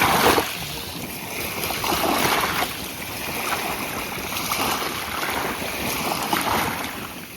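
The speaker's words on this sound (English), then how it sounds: "please enjoy these peaceful Alaskan waves as a moment of zen" Alaskan ocean waves wash and roll steadily along the shore, a continuous loud surf hiss with some wind buffeting the microphone and no voices.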